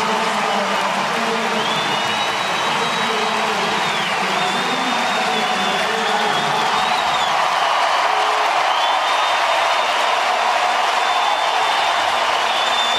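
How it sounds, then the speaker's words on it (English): Players on the Indians bench clap during a Major League Baseball game. The steady applause blends into a loud, continuous stadium crowd roar dotted with whistles. "Guys on the Indians bench are clapping."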